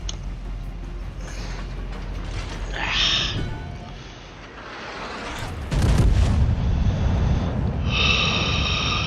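Ship guns boom in a World of Warships naval battle, with heavy blasts and rumbling impacts rising in bursts amid creaking, mechanical game effects and a loud surge toward the end.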